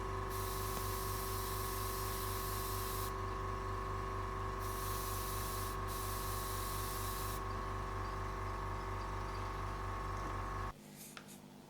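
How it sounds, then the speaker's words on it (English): Airbrush spraying a light mist of burnt umber paint over black on a pet portrait, a continuous loud hiss that cuts in and out in bursts before stopping near the end. "Just putting a light misting of burnt umber over the black as well"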